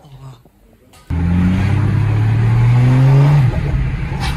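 A Mercedes diesel engine fitted with a new, louder exhaust, quiet at first, then a sudden loud steady rev from about one second, holding a rising drone before easing back to a rough idle.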